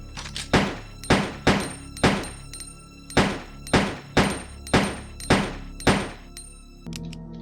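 Leon's handgun fired in quick succession in Resident Evil 2, about eight sharp, evenly spaced shots with decaying tails, loud and alone, ending with a brief quieter mechanical sound.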